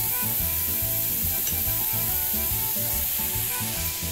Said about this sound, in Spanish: Y aquí vamos a esperar que se fría unos 5 minutos.